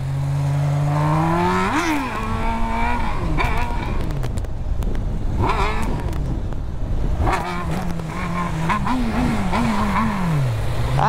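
A Honda Hornet motorcycle is ridden hard and accelerating close by, its engine revving up and down through several loud climbs and shifts over street noise, with voices shouting over it.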